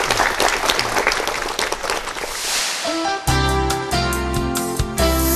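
A lecture hall audience gives a lecturer a hearty welcome with steady applause for about three seconds, which then gives way to music.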